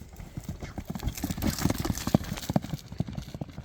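Large Kyrgyz horse of the kind ridden in kok-boru, galloping with rapid, irregular hoofbeats close by, the thuds growing sharper and louder toward the end.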